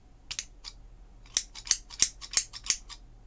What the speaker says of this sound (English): I can't close my scissors anymore.